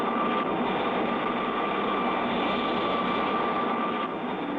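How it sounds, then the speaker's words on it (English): The third-stage rockets of a cartoon moon rocket fire in a steady, loud, dense roar that holds constant from start to finish, with a faint high tone running through it. "The second stage drops clear, and And the third stage rockets light up"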